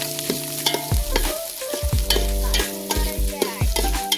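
Onion and chili frying in hot oil while being stirred with a utensil, a steady close sizzle broken by repeated scraping stir strokes, no talking.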